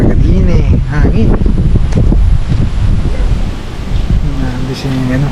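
Strong gusting wind buffets the microphone at a lake campsite, a loud constant roar with rustling, while several people talk and laugh over it throughout.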